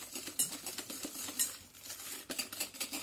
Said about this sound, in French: Moi, je vais prendre un batteur à main jusqu'à ce que on dit que le mélange blanchisse